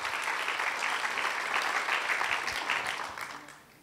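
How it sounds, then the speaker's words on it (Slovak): Audience applause in a studio talk-show setting, steady dense clapping that carries on for several seconds and then fades away toward the end. "Myslím, že jeden veľký potlesk dáme cigánskym diablom, ale aj maďarskej, aj rómskej samozrejme."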